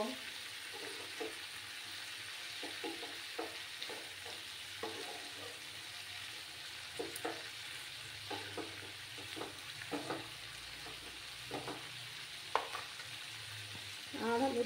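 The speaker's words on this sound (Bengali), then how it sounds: "নুনটা দিয়ে আবার নাড়াচাড়া করব" Cauliflower stems frying in a pan for a Bengali chorchori with salt added, stirred in steady scrapes over a constant close sizzle, with spatula knocks scattered through and a louder clatter near the end.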